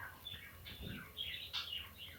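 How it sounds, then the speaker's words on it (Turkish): Small birds chirp and tweet in quick, scattered calls, fairly faint against a low background hum. "Duyuyorsunuz seslerini kuşun"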